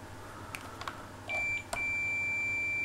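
A multimeter set to continuity, testing a thermal cutoff from an electric shower, lets out a steady electronic beep that starts, stops briefly, then holds continuously, with a few faint clicks before it in a quiet room.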